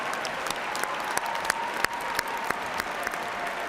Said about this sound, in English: how about a big round of applause for Professor John Strada from the Department of Communication